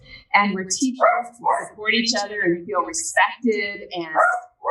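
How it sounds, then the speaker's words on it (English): Small dogs yip and bark in short bursts at home while someone speaks steadily over them during an interview. "sorry about the dogs"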